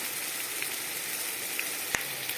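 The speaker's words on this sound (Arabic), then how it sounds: "زي ما حضرتك شايفه كده البصل بتاعنا ابتدى يدخل في السوا ويتكرمل" Onions and chicken fajita strips sizzle and caramelize in a hot pan, a steady close hiss with a faint crackle or two and no voices.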